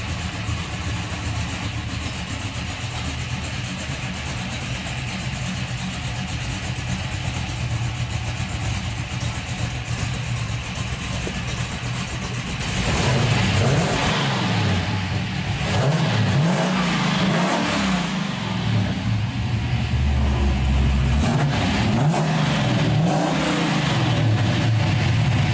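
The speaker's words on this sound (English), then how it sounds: "Now we'll listen to that 350 idle, then hear this mouse motor make some music through its dual Magnaflow mufflers" A 1954 Chevrolet pickup with a 350 small-block V8 and dual Magnaflow mufflers idles with a steady, burbling rumble for about half the time, then revs repeatedly in loud, throaty bursts.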